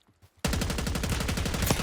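Rapid automatic gunfire in the Call of Duty video game on the Urzikstan map, a sudden sustained burst of loud, evenly spaced shots after a near-silent start.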